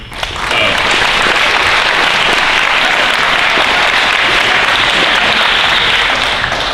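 Loud, sustained applause from a large crowd at a high school sports awards event, steady dense clapping that fills the whole stretch without letting up.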